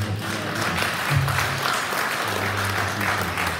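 Audience applause for a poet at a spoken-word poetry event, steady broadband clapping throughout, with a low murmur of voices beneath.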